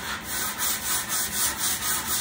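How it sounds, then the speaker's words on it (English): Steady back-and-forth rubbing of sandpaper on olive burl wood, a rhythmic scratchy swishing repeating about every quarter second, close and moderately loud. "then you just take a piece of sandpaper"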